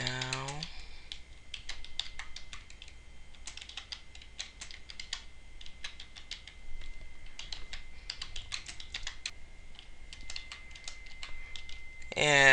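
Bursts of typing on a computer keyboard, quick clustered key clicks with short pauses between runs, fairly quiet and close, over a faint steady hum.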